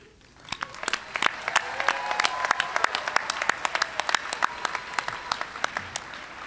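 Graduates and guests at a 2015 university commencement ceremony applaud. The applause swells into a broad, steady roar, with sharp individual claps popping out close by on top of it.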